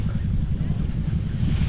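Strong gusty wind buffets an exposed hilltop campsite at an adventure motorcycle festival, a steady loud low roar of wind rumbling across the microphone with no pauses.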